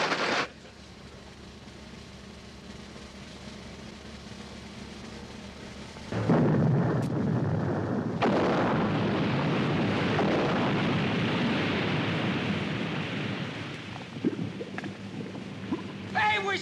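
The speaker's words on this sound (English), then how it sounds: "Fire depth charges!" In a TV show sound effect, depth charges explode underwater as a sudden deep roar that swells into a sustained rumbling surge with a second burst, loud and dense, fading slightly at the end, after a quiet stretch.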